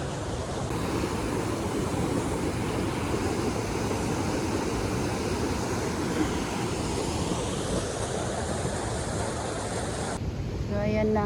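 Rushing water flows over rocks in a river park in Cavite, a loud continuous roar with wind buffeting the microphone and a brief voice near the end.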